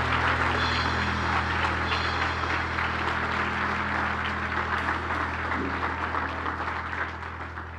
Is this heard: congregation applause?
yes